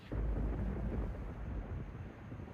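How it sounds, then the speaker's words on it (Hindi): Rolling thunder from a thunderstorm in a film scene, a loud deep rumble that rises at once and keeps booming steadily with heavy low-end weight, with no voices over it. "अरे क्या हो रहा है, तूफान है"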